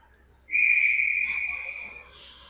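A referee blows a whistle at a women's hockey game, Adrenaline against Red Deer: one long, steady, piercing blast of about a second and a half that fades out over quiet arena background.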